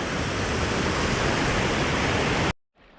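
High spring runoff roars through the East Fork of the Bear River in the High Uintas, a loud, steady broadband rush close by for two and a half seconds before cutting off abruptly to near silence.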